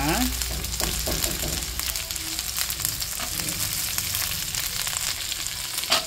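Food sautés in a hot pan with a steady, loud sizzle and crackle, stirred now and then, close up and with no talking.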